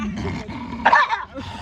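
Two dogs eat food handed out by a caregiver outdoors, giving short growls and whimpering yips at close range over steady background noise, with some human voices mixed in.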